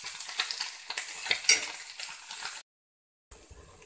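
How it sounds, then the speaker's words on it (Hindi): Small fish coated in mustard fry on a tawa with a close, crackling sizzle and scraping stir sounds, cut by a brief silent gap before the frying resumes. "अब हम और एक तरफ 2 मिनट तक भून लेते हैं मछलियों को।"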